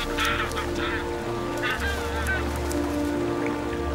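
Magellan geese honk in repeated calls across open Andean grassland, their voices fairly near and loud above a steady low rumble of wind or water.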